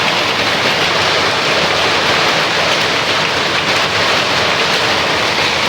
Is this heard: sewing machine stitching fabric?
no